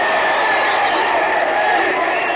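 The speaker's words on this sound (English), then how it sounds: "Crowd very much into it in Longview." A crowd cheering at a 1985 USA vs. Argentina boxing dual meet in Longview, a dense, steady roar of voices heard from within the arena.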